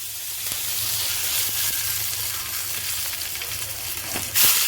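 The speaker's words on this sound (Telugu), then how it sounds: "నూనె పోస్తున్నాము ఇప్పుడు పోపు వేసుకుంటున్నాం" Steady loud sizzling of spices tempering in hot oil for a dal curry, a continuous crackling hiss up close with a brief louder burst near the end.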